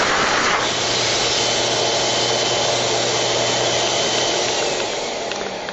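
A loud, steady rush of blowing air from a Petacare 2400W rolling stand pet dryer fills the whole stretch, a broad hiss over a low motor hum, with no talking.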